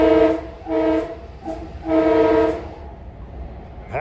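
An LIRR M3 commuter train sounds its horn in three separate blasts, two short and one longer, loud and close over the low rumble of the moving train.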